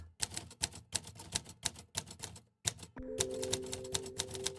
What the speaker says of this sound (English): Oh, typewriter.